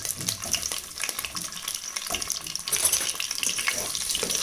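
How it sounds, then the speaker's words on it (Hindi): Eggs and meatballs fry in a pan for an egg and meatball biryani, giving a steady crackling sizzle with some clattering and stirring throughout and no talking. "अंडों को हम फ्राई कर लेंगे, और इन मीट बॉल्स को भी हल्का सा फ्राई कर लेंगे"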